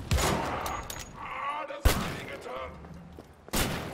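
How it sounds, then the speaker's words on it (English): Gunfire from shooting Nazi soldiers in the first-person shooter Wolfenstein: The Old Blood, with three sharp, loud bursts spaced a couple of seconds apart amid busy game noise, and a voice talking underneath. "We're shooting Nazis."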